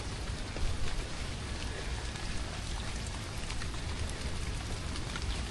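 Steady rain falling on a hike up Elephant Mountain in Taipei, a dense continuous hiss of drops pattering around the listener at an even level, with no talking.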